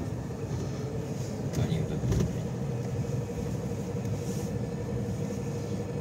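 A car drives through the city streets of Orsk at dusk, its steady engine and road rumble continuous, with a couple of brief louder knocks partway through.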